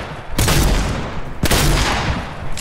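Rapid assault rifle fire from the Fortnite video game comes in two loud bursts of dense gunfire, each beginning with a sharp crack and followed by a rattling tail.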